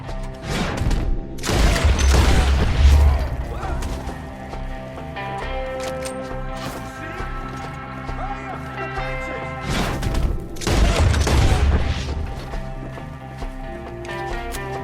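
Gunfire in Red Dead Redemption 2, with two heavy booming bursts of shots and crashes standing out over a busy scene of hoofbeats, running and game music, and voices calling out in between.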